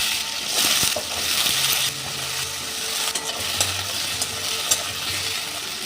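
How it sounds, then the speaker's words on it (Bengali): Diced potatoes fry in hot mustard oil, giving a steady close sizzle broken by scraping stirs and a few light clinks of the utensil against the pan. "এই আলুটা আমি ভেজে নেব।"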